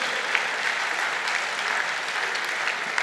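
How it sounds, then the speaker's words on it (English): Audience applause fills a government gathering on affordable housing and rent payments in Lagos, a steady sustained wash of many hands clapping throughout with no talk over it. "I thought they were going to be clapping because it's one of the major turning points."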